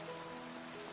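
Steady rain falling on a surface, an even, dense hiss that continues without a break and with no voices.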